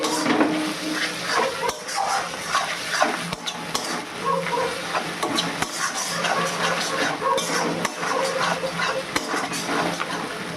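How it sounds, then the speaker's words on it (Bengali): Onion, ginger, garlic and green chili frying in a pan, with a steady broadband sizzle and scattered clinks and scrapes of a utensil stirring against the pan, no talking. "পেঁয়াজ, লঙ্কা, রসুন, আদা সব কিছু ভেজে নিয়েছি।"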